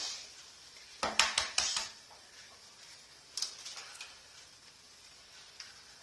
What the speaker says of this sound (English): we put the eggs in a bowl